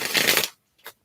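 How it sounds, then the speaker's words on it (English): A deck of cards being shuffled close up in a quiet room, a brisk riffle lasting half a second followed by a brief soft snap as the cards settle. "I am going to put it back in the deck and shuffle some more."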